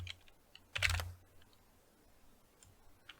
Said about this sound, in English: we gotta type that out